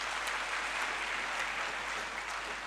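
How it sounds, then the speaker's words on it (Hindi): An audience at a youth motivational conference in Rajasthan claps steadily, a dense, even wash of many hands applauding with no talk over it. "ताली बजाइए उनके लिए।"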